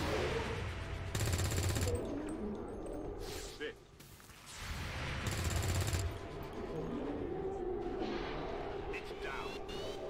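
Overwatch gunfire at incoming Lost in XCOM 2 War of the Chosen with Long War 2, bursts of loud rapid shots in two distinct volleys over a busy background of game effects.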